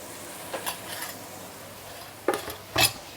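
Dishes and pans clattering as they are cleared off a kitchen counter, a few scattered knocks and clinks followed by two louder close clanks, with no voices.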